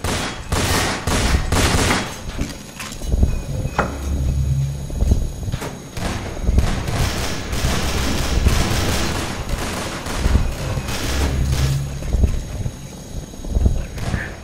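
Bursts of rapid gunfire in Garry's Mod, crackling volleys that come and go over a busy game soundscape with clattering hoof-like thuds and scattered effects.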